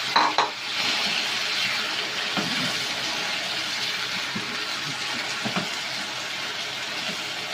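Potatoes for a Spanish omelette fry in hot oil, a steady, loud, close sizzle that runs throughout with a few faint stirring knocks and no voices.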